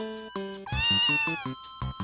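A cat in a Yakuza video game meows clearly and close, several short tonal mews followed by a longer rising-and-falling cry and more brief meows.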